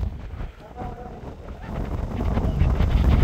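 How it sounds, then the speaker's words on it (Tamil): Strong wind gusts buffet the microphone at Sigiriya, Sri Lanka, a rough, roaring rumble that dips briefly and then grows louder and more constant. "இப்படி காத்து அடிக்க வேண்டியது எதிர்பார்க்கலையப்பா"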